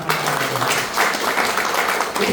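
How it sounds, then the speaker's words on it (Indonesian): A church congregation applauds together in a steady, dense wash of clapping that fills the room, with a few voices mixed in. "Tepuk tangan dulu dong."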